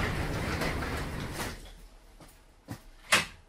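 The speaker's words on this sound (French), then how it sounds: "il fait froid, fait qu'on va fermer la porte" A door is shut against the winter cold, first a long rushing slide, then two sharp knocks as it closes, heard close in an otherwise quiet room.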